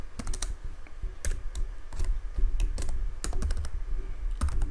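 Quick, irregular clicks of a computer keyboard being typed on, close and fairly quiet, with short bursts of keystrokes and brief pauses, no voices.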